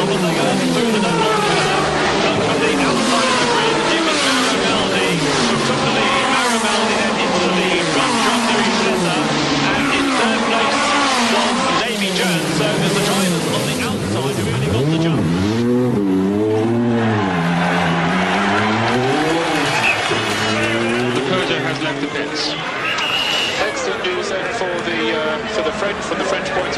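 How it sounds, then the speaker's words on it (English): Race cars accelerating at the start of the 1989 Le Mans 24 Hours, a loud, continuous stream of engines rising and falling in pitch as cars pass, with commentary running over it throughout. "here they come up towards the accelerating now. And the 1989 Le Mans 24 is underway."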